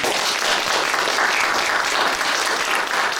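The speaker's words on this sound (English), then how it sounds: "All right, let's give them a round of applause." Sustained applause from an audience filling a meeting room, dense and steady at close range for the full length with no pauses and no talk over it.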